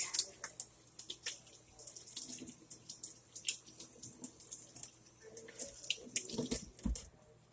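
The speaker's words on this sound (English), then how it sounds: "I'm going to wash my hands, because where I touched that meat." Hands being washed under a running kitchen sink faucet after handling raw pork roast, water splashing and dripping unevenly with no voices.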